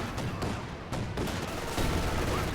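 Gunfire from grenadiers engaging in Company of Heroes, a dense, continuous volley of rifle and machine-gun shots with sharp cracks rattling loudly and without pause, no voices.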